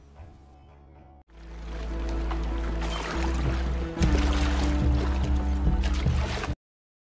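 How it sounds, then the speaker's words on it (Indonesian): Rhythmic splashing and swishing of oars through water, with a steady low rumble, moderately close and continuous for several seconds. "Margot diam-diam mendayung perahunya menuju ke kapal ikan"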